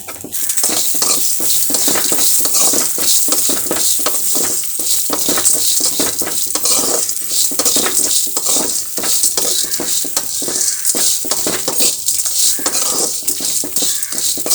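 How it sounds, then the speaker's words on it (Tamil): Neem flowers being roasted and stirred in a pan: a loud, continuous dry sizzle with rapid scraping and clinking of a spoon against the metal, steady throughout without talk. "வேப்பம்பூவையும் போட்டு வறுத்துக்கலாம்"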